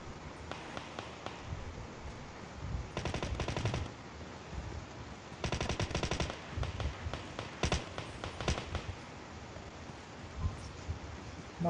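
Bursts of automatic gunfire from the mobile battle-royale shooter PUBG Mobile rattle in rapid volleys, separated by quieter gaps with scattered single shots and background game noise, and no one speaks over them.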